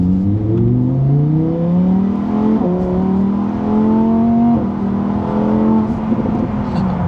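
A four-wheel-drive Lamborghini Huracán EVO accelerates hard in sport mode, its engine note climbing loudly through rising revs with brief dips at gear changes, close and strong.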